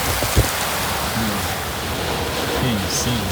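Heavy rain pours during a Fort Lauderdale downpour, with water sheeting across the road; a loud, unbroken roar of rainfall fills the whole clip.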